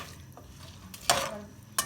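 Five or six whole chillies stirred in a pan on a freshly lit stove, a faint sizzle broken by two loud scraping strokes of the spoon near the end.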